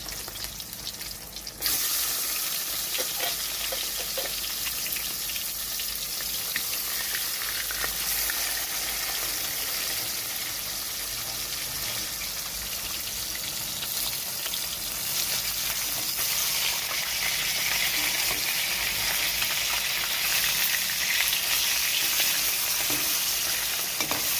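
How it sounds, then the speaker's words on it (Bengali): Rohu fish frying in hot oil, a dense, loud, continuous crackling sizzle that holds steady close up for the whole stretch with faint stirring touches. "মাছ ভাজা হয়ে গেছে"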